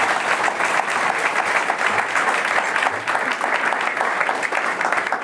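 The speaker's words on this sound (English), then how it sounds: "Can I get an applause for Danny, Kobe and Erwin?" Audience at a cycling team presentation for SD Worx-Protime applauds riders Danny, Kobe and Erwin: dense, continuous clapping from a large crowd, loud and even throughout.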